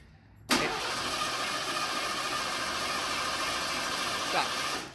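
A warm 1988 Ford Thunderbird engine cranks steadily at full throttle for a compression test, a sharp onset followed by an even, continuous churning drone with a faint voice underneath.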